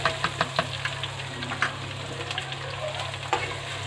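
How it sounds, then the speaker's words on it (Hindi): Onions and green chillies fry in ginger garlic paste, a soft steady sizzle under a low hum, with several quick stirring clicks and scrapes near the start. "और इसे भी हम अच्छे से फ्राई कर लेंगे ब्राउन होने तक।"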